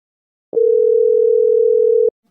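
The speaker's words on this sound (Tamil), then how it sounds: "நம்ம மச்சாங்கிட்ட ஃபோன் பண்ணி கேட்போம்" A single steady electronic phone tone sounds for about a second and a half, clean and loud, starting and stopping abruptly against silence.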